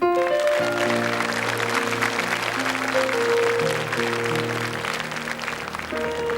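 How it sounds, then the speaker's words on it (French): Studio audience applause on a 1982 French television talent show for children, steady dense clapping over sustained background music, lasting several seconds and easing slightly toward the end. "On l'applaudit."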